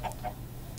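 Chickens in a video game, two short soft clucks in quick succession over a low background hum, faint and brief.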